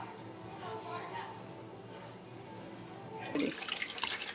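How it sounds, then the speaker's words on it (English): A kitchen tap is turned on to rinse pork spare ribs being seasoned Jamaican style. Running water splashes in loudly near the end, after a stretch of quiet room noise. "he's now putting the water on and he's gonna rinse it or wash it"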